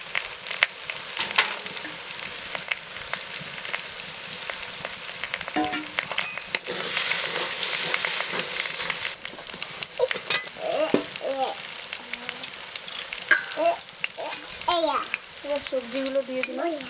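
Coriander and cumin sizzle and crackle in hot oil in a pan for home-style Bengali cooking, a steady close frying hiss with occasional stirring scrapes and soft voices in the background.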